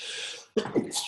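A single quick sneeze bursts out fairly close after a soft breathy intake and brief pause, with a short trailing exhale, in an otherwise quiet room.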